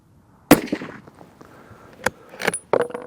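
Several sharp, loud gunshots from a Weatherby Mark V rifle fired at a 100-yard range in calm, light-wind conditions, each crack standing alone with short gaps between reports.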